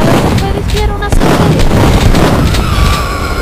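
Shotgun blasts and gunfire from the first-person shooter Duke Nukem 3D, a loud, dense game soundtrack of booming shots over music and effects, continuous for several seconds.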